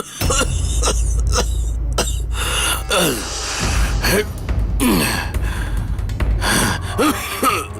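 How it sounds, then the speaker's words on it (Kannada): A person coughs repeatedly from dust in harsh, close bursts, with strained gasping breaths between coughs. "ಧೂಳಿತ್ತ, ಅದರಿಂದಾಗಿ ಕೆಮ್ಮು ಹೆಚ್ಚಾಗಿರೋದು"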